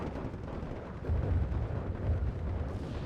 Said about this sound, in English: Come back round for the strafing run onto that Pack 40.